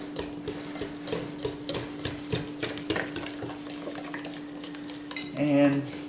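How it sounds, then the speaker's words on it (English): A whisk clicks and scrapes rhythmically through cornmeal mix batter in a bowl, quick repeated strokes close up, with a steady hum behind and a brief clatter near the end. "We're just whisking that in."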